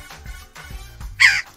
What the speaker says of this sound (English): Oh, dude, it sounds like a crow.